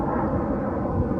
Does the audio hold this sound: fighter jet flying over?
yes